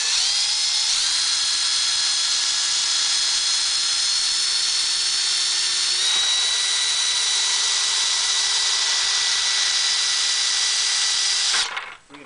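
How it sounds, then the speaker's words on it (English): Power drill running continuously as it bores 3/16-inch holes in a plastic bucket, a loud, high whine held for about twelve seconds with a slight pitch shift, cutting off abruptly at the end. "Drill these 3/16 holes out in the bottom of the bucket and the side one here."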